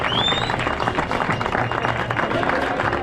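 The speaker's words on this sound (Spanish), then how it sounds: "un fuerte aplauso para ella, la categoría de clásicas" Applause at a Andalusian trial motorcycle championship prize-giving in Posadas for a young rider in the classics category, dense steady clapping from a crowd with voices mixed in, a whistle-like tone rising briefly at the start.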